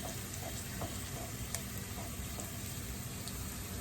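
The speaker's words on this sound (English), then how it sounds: "cook that right there for a minute on a good heat" Breakfast food cooking in a pan over a good medium heat makes a soft, even sizzle that stays faint and unbroken throughout.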